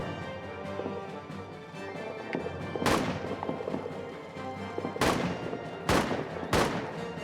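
Gunfire in a trench battle video game: several sharp, close individual shots ring out at uneven intervals over a steady background din of distant fighting, with no voices.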